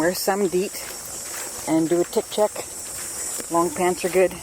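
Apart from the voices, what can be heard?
cicadas buzzing in Presqu'ile Provincial Park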